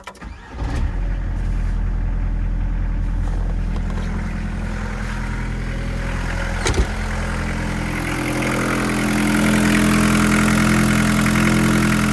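A Volkswagen T4 van's 1.9 ABL diesel engine starts with a brief crank and settles into a steady, loud, close idle with a low continuous rumble and no speech.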